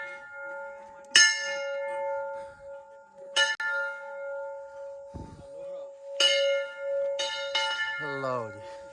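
A small bell at a hillside Shiva temple rings in sharp metallic strikes, four or five separated across the stretch, each with a long humming ring-out. A steady tone continues underneath, and a brief voice is heard near the end.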